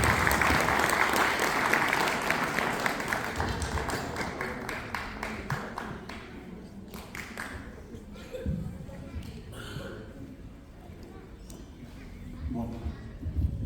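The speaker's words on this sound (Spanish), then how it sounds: "Bueno, aplausos." An audience claps at an awards ceremony, loud dense applause that gradually thins into scattered claps, with some speech mixed in.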